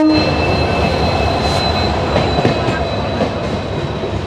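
Rattle and rumble of a passenger express train running on rails past Jalgaon railway station, a steady loud roar with faint rhythmic clicks heard from onboard, no talking.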